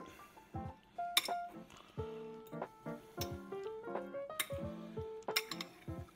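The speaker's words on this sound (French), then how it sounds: "je vais tout mélanger comme il faut avec la fourchette" A fork clinks and scrapes against a bowl, mixing salmon for a salmon-avocado tartare, with sharp ringing taps in an uneven rhythm, close and clear, with no voices.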